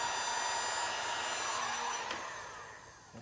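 A heat gun warms vinyl wrap on the rear bumper of a Toyota MR2, a steady close blowing whine with airy hiss that fades and drops in level toward the end, no talking.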